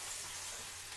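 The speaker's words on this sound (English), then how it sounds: "I'm now moving the butter around in the pan." Butter sizzles in a frying pan while scrambled eggs are being made, a soft, steady hiss of frying held close and quiet throughout.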